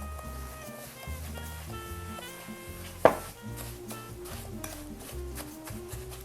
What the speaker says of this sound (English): whisk it all together. Make sure you get those brown sugar chunks out.